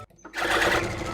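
A sewing machine runs a stitch along Katori blouse piping, starting after a brief quiet moment and then whirring steadily and close for about a second.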